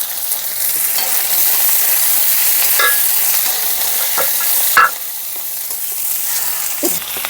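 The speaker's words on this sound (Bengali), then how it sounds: "হাই ফ্লেমে একটু ভাজা ভাজা করে নেব।" Onion petals and three kinds of capsicum stir-fry over a high flame with garlic, ginger and chilli, giving a loud, continuous hiss and sizzle, with occasional spatula scrapes and a sharp knock near the middle; no talking.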